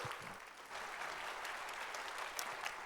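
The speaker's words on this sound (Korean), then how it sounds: "큰 격려 박수 보내주세요." Congregation applause at a Korean church Sunday service, a steady dense clapping of a large crowd in a hall, sustained without pause.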